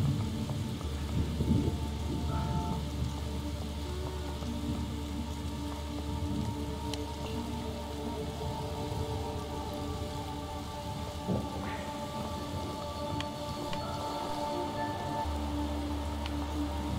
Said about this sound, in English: Was thunder not supposed to hit this?